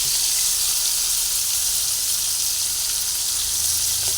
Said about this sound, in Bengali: পেঁয়াজ আর চিংড়ি মাছ একসঙ্গে ভেজে নিচ্ছি